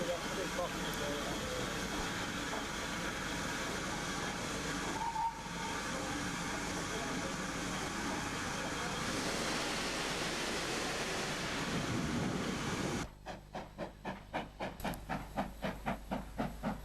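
A British Railways Standard Class 3 steam locomotive hauls a passenger train in from Malton on a moorland branch line, a steady broad rumble and hiss that carries on throughout, ending in a rhythmic chuffing beat over the last few seconds.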